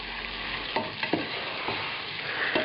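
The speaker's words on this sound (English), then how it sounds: "Now it goes back up to medium, and we start adding the cabbage in." Shredded red cabbage hits a pan over medium heat and sizzles steadily, with a few scraping stirs from a utensil, close and even, no talking.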